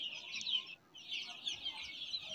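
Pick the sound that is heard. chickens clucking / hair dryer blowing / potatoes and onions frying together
chickens clucking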